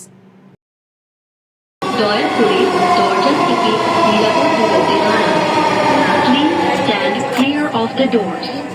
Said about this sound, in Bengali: এবারে চলে এসেছে কাঙ্ক্ষিত ট্রেন গন্তব্য হচ্ছে আমার অফিস